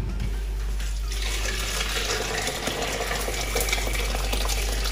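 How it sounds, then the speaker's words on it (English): Boiling stock pours steadily into a large pot of party jollof rice, a continuous rushing, splashing stream close by, with no speech. "we are going to pour the stock that is boiling"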